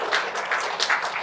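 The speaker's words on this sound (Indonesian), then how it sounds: "tepuk tangan yang keras buat Tuhan" A church congregation at an Indonesian worship service claps loudly together, a brief burst of many hands with a few distinct, roughly rhythmic peaks.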